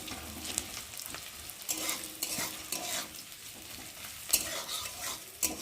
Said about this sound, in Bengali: ভালো করে ভেজে নেব, নরম যাতে হয় পেঁয়াজটা।